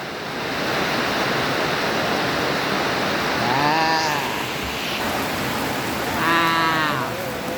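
Steady rain pours down in a dense, even hiss that lasts throughout, with a couple of brief, faint voice-like tones rising above it.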